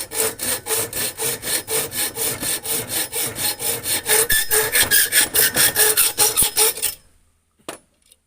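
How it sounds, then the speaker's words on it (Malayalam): A hand saw cuts through wood to shape a crossbow fishing-gun arrow, with close, loud, even rasping strokes in a steady back-and-forth rhythm that quickens near the end, then stops, followed by a single faint knock. "അത് കട്ട് ചെയ്ത് കളഞ്ഞു."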